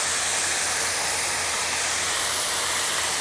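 Cherry tomatoes scattered into a hot pan where BC halibut is searing: a steady, loud sizzle and hiss that holds without break, with a faint low hum underneath.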